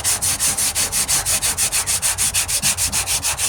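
Rhythmic back-and-forth sanding of a 1998 Ford Ranger's rusty metal tailgate with coarse 40-grit paper, about six strokes per second, loud and close, with no voices.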